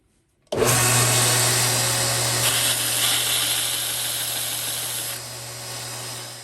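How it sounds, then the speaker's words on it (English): A belt grinder spins up abruptly and runs loud and steady as a broken tap is ground against the belt, giving a continuous harsh whir with a strong motor hum and a shifting gritty hiss. "your broken tap and a belt grinder"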